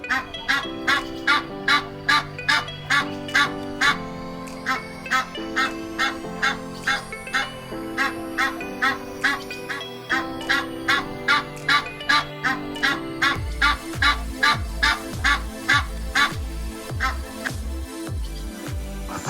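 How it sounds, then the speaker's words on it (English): Geese honk in quick repeated calls over a rhythmic musical backing in a children's animal-sounds program, the honks steady and fairly loud throughout. "Geese."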